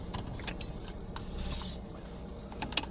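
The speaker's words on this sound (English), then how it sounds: "Nice spray gets the car smelling fresh." Air freshener sprayed inside a car: a single hissing spray burst of about half a second, set against the faint low hum of the car interior, with a few small clicks around it.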